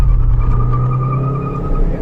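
Two cars, a Hyundai Verna and a Volkswagen Vento, launch side by side in a drag race, with a loud, close, steady engine drone and a whining tone that climbs slightly over two seconds.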